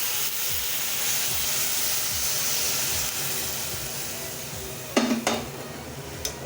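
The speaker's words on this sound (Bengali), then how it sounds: "এখন এই যে সাইডে একটু গরম জল বসিয়েছিলাম, দিয়ে দিচ্ছি গরম জল।" Hot water is poured into a hot pan of fried potatoes and jute leaves for a Bengali village-style patpata jhol, giving a steady close hiss and sizzle with a couple of sharp metallic clanks near the end. No one speaks.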